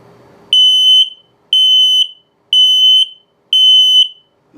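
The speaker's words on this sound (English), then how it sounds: "LP is good carbon monoxide test coming up" An RV's LP and carbon monoxide detector in a 2022 Zinger 333DB sounds its test alarm: four loud, piercing electronic beeps, each about half a second long, evenly spaced about one second apart.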